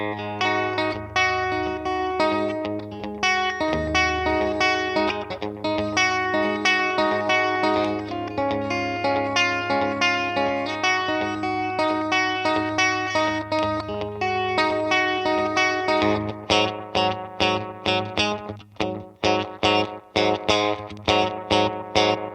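Electric guitar runs through a Boss DM2 analog delay pedal with the intensity cranked, so strummed chords and picked notes smear into thick, warm repeating echoes, ending in a run of sharp rhythmic stabs.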